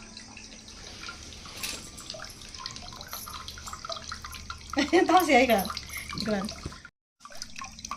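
Water from three coconuts is poured into a large two-to-three-litre cooking pot, making a loud splashing gush over a couple of seconds amid ongoing talk and laughter.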